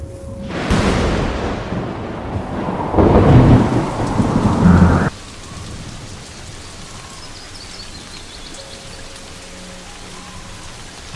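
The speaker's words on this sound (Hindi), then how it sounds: "सूखी घास पर पानी की बूंदें पड़नी शुरू हो गई हैं" Rain starting to fall on dry savanna grass, a dense loud hiss of drops with heavy low rumbling for the first few seconds, then dropping to a softer, steady patter.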